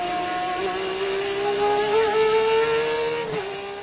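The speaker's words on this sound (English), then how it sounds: "So now we're going to get to my favorite overtake, which is Carlos Sainz" A Red Bull Formula 1 car's engine screams at high pitch from onboard during an overtake at the Russian Grand Prix, holding a loud, sustained whine that climbs and shifts slightly as it passes another car.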